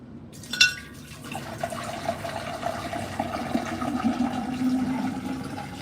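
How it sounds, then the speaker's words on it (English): Water being poured from a roughly 2.5-gallon supply to fill a container in a home chemistry lab, a steady liquid rush and gurgle that builds after a short splashy start, heard near and alone. "let's get this thing filled with some water"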